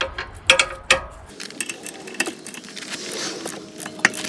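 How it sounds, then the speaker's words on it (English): A wrench loosening an 18 mm lower shock absorber bolt on a BMW M3, metallic ratcheting clicks and clinks in uneven bursts, close and moderately loud, with faint background noise. "Ooh, the first bolt is coming off."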